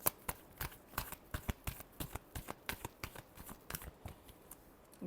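Tarot cards being shuffled by hand during a reading, a rapid run of crisp riffling slaps and flutters repeating steadily for about five seconds, close and moderately loud with no talking.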